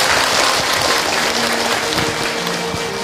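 An audience at an Islamic lecture claps for the mothers present, a dense, steady patter of many hands filling the room, loud and sustained with no speech over it.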